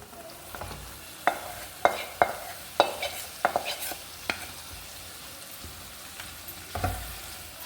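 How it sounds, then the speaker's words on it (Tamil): Chicken marinated in yogurt and salt fries for biryani in masala and oil under a continuous sizzle, broken by a series of sharp spoon clacks against the pan in the first half, close and without speech. "இப்போ நம்ம மேரினேட் பண்ணி வச்ச சிக்கனை சேர்த்துக்கிடலாம்"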